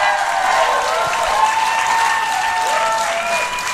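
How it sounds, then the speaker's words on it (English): A wrestling crowd at Broxbourne Civic Hall gives a standing ovation, with sustained applause and scattered cheers filling the hall and no one speaking over it. "A standing ovation from parts of our crowd here in the Broxbourne Civic Hall"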